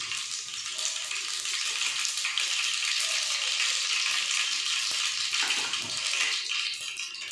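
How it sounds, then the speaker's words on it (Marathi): Mustard seeds dropped into hot oil for tamarind kadhi, giving a steady bright hiss and crackle of sizzling that runs continuously, close and fairly loud. "आता ते तेल गरम झालेलं आहे त्याच्यामध्ये मी मोहरी टाकून देते"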